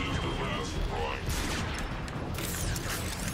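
Busy gunfire in the Transformers: Fall of Cybertron campaign, a steady clatter of weapon shots and mechanical battle noise mixed with bright energy blasts, sustained at moderate loudness throughout.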